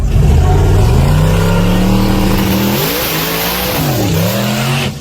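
An exotic drag racing car revs hard and accelerates down the strip, its loud engine note climbing steadily, dipping briefly at a shift, then rising again before cutting off, close and dominant with no talk.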